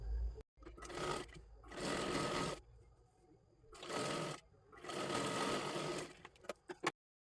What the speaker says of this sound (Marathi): सर्वात आधी अशा पद्धतीने थोडंसं फोल्ड करून शिलाई मारून घ्यायची आहे दोन्हीसुद्धा बाजूंना